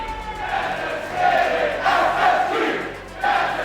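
Large arena crowd at the Rocket League World Championship roaring and cheering in sustained waves, with louder surges swelling and fading throughout.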